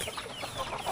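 A small flock of hens with many chicks clucking softly while being fed, a continuous near chatter of low clucks with no talking.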